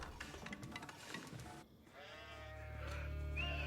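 Sheep bleat a few times in Age of Empires 4, with a rising cry near the end over a low rumbling background; the tone sounds synthetic, like a game soundtrack.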